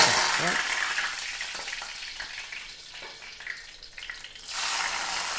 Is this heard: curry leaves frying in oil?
yes